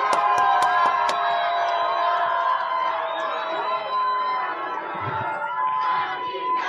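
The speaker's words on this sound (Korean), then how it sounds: "함성 소리가 큰데요" A live studio audience cheers and shouts for Ahn Hee-jung, governor of South Chungcheong, with loud sustained whoops, yells and chatter from a dense crowd, opening with a few sharp claps.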